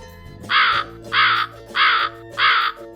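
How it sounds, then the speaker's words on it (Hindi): A crow caws four times in an even rhythm, each a harsh, rasping call of equal length, loud and close with no other voices. "करो माने कौवा।"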